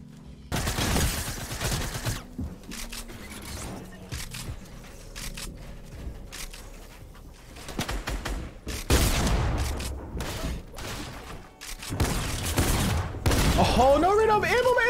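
Minigun fire in Fortnite Zone Wars, rapid bursts of shots rattling in several separate volleys over about fifteen seconds, with a player talking over the action.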